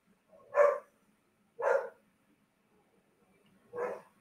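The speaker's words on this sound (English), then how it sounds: "y'all hear my husband and Emma and the dog now." A dog barks three times in a room, single loud woofs spaced about a second apart with a longer gap before the last, close by and with no talk over them.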